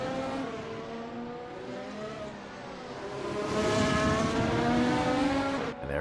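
A race car at the Suzuka circuit passes with a rising, revving engine whine that swells louder and nearer, holding high pitch before cutting off, no voices.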